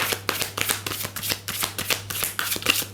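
Oracle and tarot cards are shuffled by hand, giving a steady run of quick riffling, papery flicks in repeated bursts, close and clear with no talking and a faint steady hum beneath.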